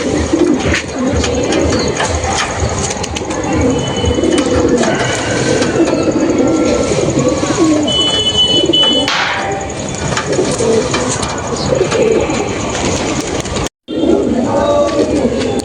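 Madras pigeons cooing in a coop, repeated soft throaty coos over a busy background of wing flutters and rustling, with a voice talking faintly under them and a brief cut near the end.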